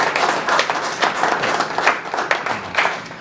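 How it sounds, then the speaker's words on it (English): An audience applauds steadily throughout, a dense wash of many hands clapping at close to moderate distance, with no voices standing out. "Let's give him a round of applause"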